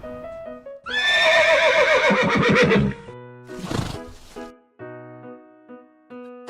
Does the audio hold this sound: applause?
no